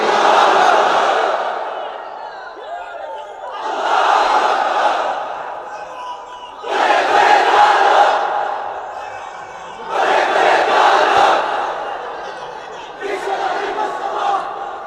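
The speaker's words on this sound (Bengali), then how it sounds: "তাকবীর পরেন তো দেখি" A large crowd at an outdoor waz sermon chants the takbir, Allahu Akbar, in five loud, roaring surges separated by short gaps.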